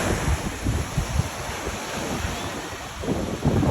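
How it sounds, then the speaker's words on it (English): Ocean waves washing onto a beach, a continuous rushing surf with soft swells and steady wind buffeting the microphone, close and fairly loud throughout. "This is the beach. This is the water."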